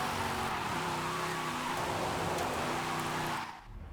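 Car engine held at constant full throttle in fifth gear while drifting in Forza Horizon 5, a loud sustained drone with a tire-squeal edge that cuts off near the end.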